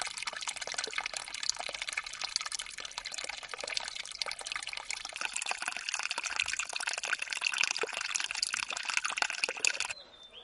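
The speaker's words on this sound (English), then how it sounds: "there is an artesian well at the foothill. The flow of water is very thin here." A thin trickle of water runs from an artesian well at the foot of a hill, a soft, continuous splashing and dribbling that stays faint and steady before cutting off near the end.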